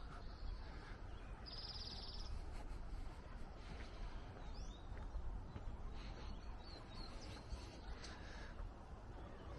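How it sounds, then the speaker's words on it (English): Birdsong outdoors in a leafy Portland, Oregon front yard with a creek nearby: scattered faint chirps and whistled calls over a steady broadband hiss of background noise. "Not sure if the microphone picks up all the bird songs, but it is like I'm in a park right now."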